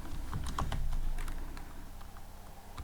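Typing on a computer keyboard while writing Python tkinter code: a quick run of close, crisp key clicks at first, then fewer and softer taps trailing off, with no talking.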